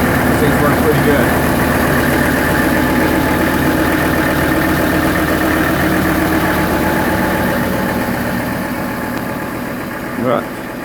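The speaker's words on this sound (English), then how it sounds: "I'm just kind of going through a break-in sequence right now with the engine." A restored boat engine idles steadily through its break-in run, a continuous loud mechanical drone that holds even throughout before dipping slightly near the end.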